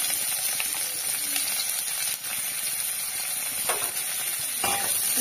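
Mustard seeds spluttering in hot oil, with a steady close sizzle and scattered sharp pops and crackles throughout.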